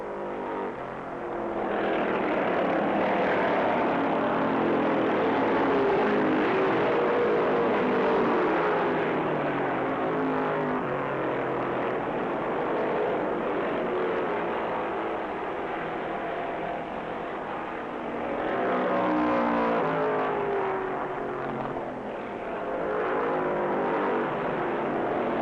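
Hemi-powered 1965 NASCAR stock cars, a Plymouth and a Dodge, roar flat out around Rockingham Speedway, a loud sustained engine howl that swells and fades as the cars pass, with no voices over it.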